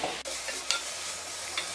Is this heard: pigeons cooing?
no